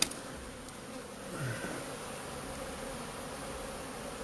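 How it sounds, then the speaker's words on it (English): Honeybees swarm around a comb that has lain on the ground for about a year, their steady dense buzz filling the air close by, with one nearer bee sweeping past midway. "There are bees making their way in."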